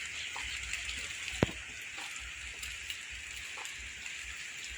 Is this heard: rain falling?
yes